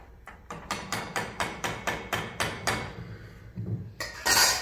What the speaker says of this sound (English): So we have that going. We'll go ahead and stir it up.